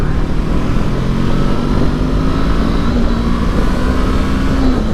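A 2019 Honda CB500X motorcycle engine drones steadily at close range while riding on twisty Oregon roads, with the pitch climbing slightly as it pulls through a gear.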